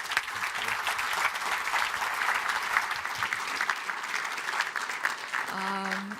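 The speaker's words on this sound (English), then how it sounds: "can we give them another round of applause?" Conference audience at a cybersecurity plenary session applauding steadily for several seconds, a dense patter of many hands that fades out as a voice begins to speak.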